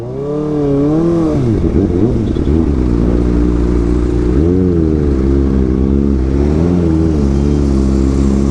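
Kawasaki Ninja ZX-4RR motorcycle revving, loud and close, with repeated sharp rises and falls in pitch followed by a steadier high-pitched whine, no talking.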